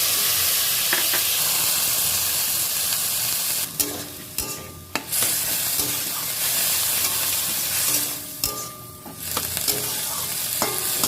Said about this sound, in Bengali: এবার জল অ্যাড করে দিচ্ছি